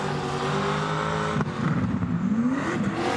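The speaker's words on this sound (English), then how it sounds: "you can hear the engine labouring up" Drift car engine labouring under braking at a motorsport games qualifying event, a loud whining drone that drops abruptly, then grumbles and surges unevenly, heard from a distance with tyre noise mixed in.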